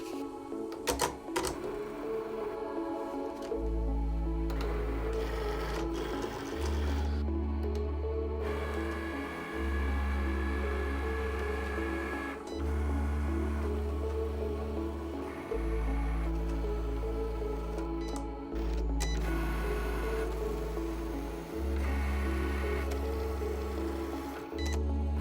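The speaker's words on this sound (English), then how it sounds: "Now we just have to cut them out on the Cricut." Cricut cutting machine cutting out paper prints, with a whirring motor that runs in repeated back-and-forth passes, low pulsing hums broken up by short clicks and pauses at close range.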